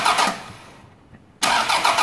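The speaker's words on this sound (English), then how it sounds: "All that's doing is causing the starter motor to energize and crank the engine." A car engine cranks on its starter motor with the ignition switched off, a loud steady churning burst, then a short quiet gap before the cranking resumes just as loud.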